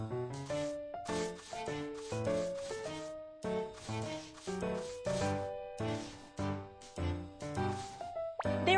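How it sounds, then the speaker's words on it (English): A razor shaves stray hair off a kitten in the BabyBus pet-care game Little Panda Pet Castle, giving repeated rubbing, scraping strokes over steady, cheerful background music. "Drag the razor to shave the kitten's stray hair off."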